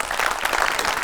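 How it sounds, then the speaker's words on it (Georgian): A brief burst of dense, lively applause from a studio audience at a children's show after young drummers perform a march, steady and close. "აპლოდისმენტები."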